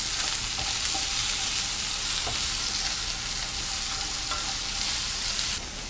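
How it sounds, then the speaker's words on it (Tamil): Onion, garlic, dried red chilli and tamarind sauté in a hot pan with a loud, continuous close-up sizzle that stays even throughout, and no one speaks. "இதை நல்லா வதக்கிக்கலாம். 1 நிமிஷம் வரைக்கும் நல்லா வதக்கிக்கலாம்."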